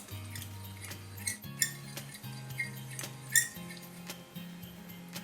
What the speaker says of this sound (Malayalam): ഇനി ഇത് നന്നായിട്ടൊന്ന് മിക്സ് ചെയ്യണം